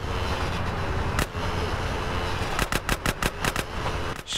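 Bursts of video game gunfire in GTA San Andreas, a sharp shot followed by a rapid run of loud cracks over a constant background roar of vehicles or a train.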